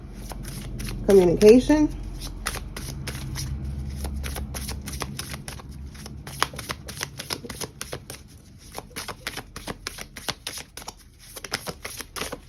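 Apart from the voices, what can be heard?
shuffling a deck of tarot cards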